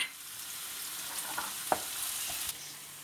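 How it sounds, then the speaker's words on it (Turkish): Onions and garlic fry in oil with a steady soft sizzle, broken by a few light clicks and scrapes of stirring, close by and without talk. "Soğanlarım yağda kızmaya başlayınca üzerine 2-3 diş sarımsağımı ilave ediyorum."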